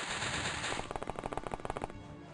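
Rapid automatic gunfire from the OpenXcom game with the WH40k mod, a fast rattling burst of evenly spaced shots following a sustained noisy rush, loud and close with no voices.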